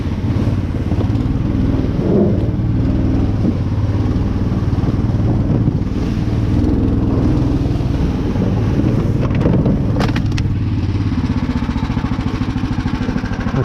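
An Uragan amphibious vehicle drives through thawing spring snow at night, its engine a steady, loud, continuous drone heard close up, with wind buffeting the microphone throughout and a few brief knocks near the end.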